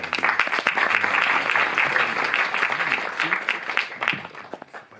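A cinema audience at the Paris Cinémathèque applauds a film director, dense clapping filling the room at full strength before thinning and fading toward the end.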